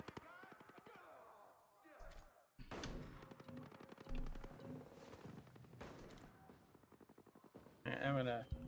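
Gunfire in the video game Ghost Recon Breakpoint rattles in rapid bursts and single sharp shots, fairly faint overall, with a louder crack partway through and occasional talk mixed in.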